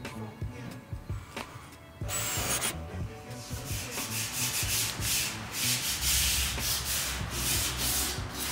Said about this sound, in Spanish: yo le lijé con una lijadora a banda esta